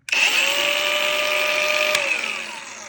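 An Einhell cordless angle grinder spins up sharply after a restart and runs with a loud, steady high-pitched whine at close range, then begins to wind down near the end.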